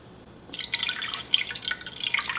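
Water is poured onto a sneaker treated with a water-repellent protector, starting after a quiet half second as close, splashing drips and trickles that patter on unevenly for about two seconds.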